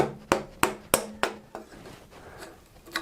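Waste is tapped out of a bridle joint with hand tools, five sharp, ringing knocks in a quick even series, then a quieter pause and a final tap, close and clear.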